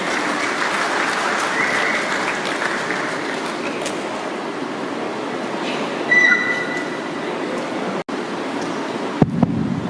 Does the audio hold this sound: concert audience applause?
yes